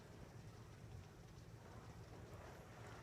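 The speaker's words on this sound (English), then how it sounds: "Rain at last." Steady rain falls outside during a storm, a constant even wash of sound heard alone with no talk, with a faint low rumble underneath that may be distant thunder.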